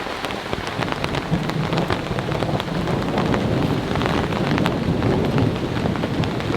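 Heavy rain drums steadily and loudly on a large pop-up tent during a thunderstorm, with dense, unbroken patter and a deep rumble of thunder beneath it. No voices are heard.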